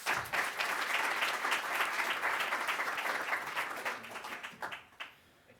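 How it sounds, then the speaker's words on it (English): A seminar audience at a community ecology session gives a round of applause. The moderate, fairly close clapping is steady for about four seconds, then thins into a few scattered claps before fading to quiet. "Round of applause."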